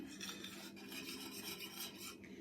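A spoon stirs a thick no-bake snack bar mixture round a pot with continuous scraping and rubbing. The sound is quiet, close and even, with no voices.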